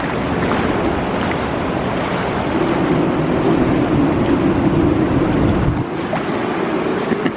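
Ocean waves wash up on Second Beach in a loud, broad roar of surf that never lets up, mixed with wind buffeting the microphone. No one speaks.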